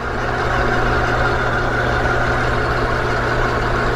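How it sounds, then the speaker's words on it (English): A small machine runs steadily, driving plastic gears for threading and cutting; a constant close hum with a low, even drone throughout and no talking. "It's driving the gears down here for my threading and cutting."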